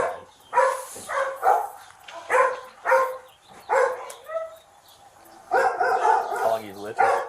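Several dogs bark at a house in repeated bursts, fairly close and loud, with a higher whine or yelp near the end; people talk between and over the barking.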